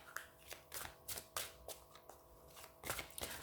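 Tarot cards being shuffled for a daily draw, a series of soft riffling bursts and flicks repeating at an uneven rhythm, close and quiet with no speech.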